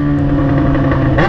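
A Yamaha XJ6 motorcycle engine revs loudly up close under throttle, a steady droning pitch that rises briefly near the end.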